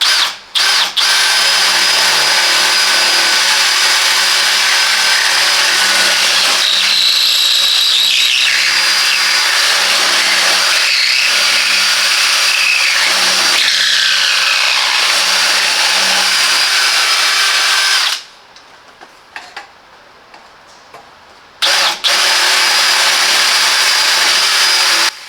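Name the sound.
Parkside Performance 20V cordless drill running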